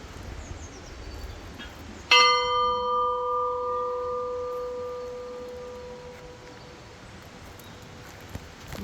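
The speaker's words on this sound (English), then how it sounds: "We've got the bell over here still hanging." An old chapel bell at the Virgin Mary Chapel gives a single clear strike, then a long ringing decay fades over several seconds against quiet outdoor ambience.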